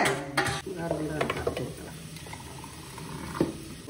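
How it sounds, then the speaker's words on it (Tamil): A pot of water bubbles and simmers while a utensil stirs and clinks against the metal, close up. "பார்த்தீங்களா உலை கொதிக்க போகுது"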